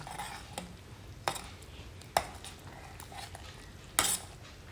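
Garam masala and kasuri methi being stirred into matar paneer in a pan: a few sharp utensil clinks and scrapes at irregular intervals over a quiet background, close by, no talking.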